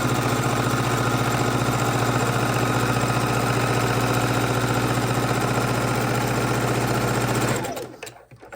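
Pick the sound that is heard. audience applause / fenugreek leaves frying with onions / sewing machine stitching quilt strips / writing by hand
sewing machine stitching quilt strips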